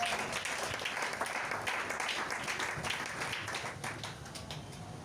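A church congregation applauding in a steady, dense wash of clapping that holds at an even level and eases slightly toward the end, with no voices heard over it.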